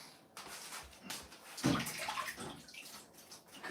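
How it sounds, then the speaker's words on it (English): Hands rinsed quickly under running water while chopping and mulching apples for cider, a steady splashing flow that swells in the middle and continues to the end, close and fairly quiet, with no talk. "Just quickly rinse the hands."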